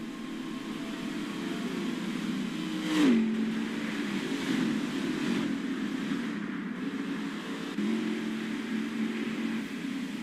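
Xfinity Series race cars at Charlotte Motor Speedway slowing under caution, a steady engine drone with a car passing near the middle and smaller swells later, moderately loud.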